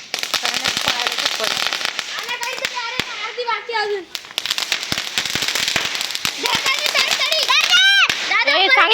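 Rapid, crackling bursts of Diwali firecrackers pop continuously nearby, loud and dense, while children shout and talk over the noise.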